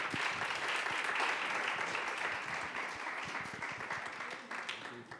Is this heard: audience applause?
yes